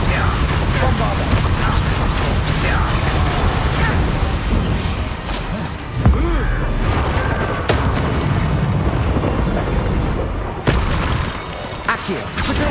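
Bombarda blasting spells erupt in Hogwarts Legacy combat, loud booming explosions and crashing impacts over dense, continuous battle noise, with sharp blasts near the middle and end and a voice speaking throughout.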